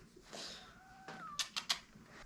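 A pet cat gives a few short, rising meows followed by quick bright chirps, fairly close and moderately quiet with no talking.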